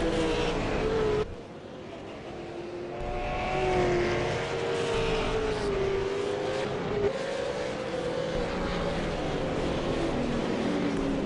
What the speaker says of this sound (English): These V8s sound absolutely epic now.